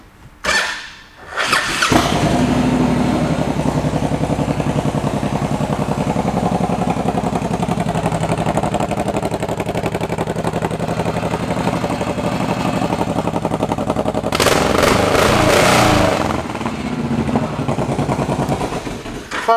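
A Honda VTX 1800 fuel-injected motorcycle engine cranks briefly and fires up at once, then settles into a loud, steady, deep idle, with a short burst of revving partway through.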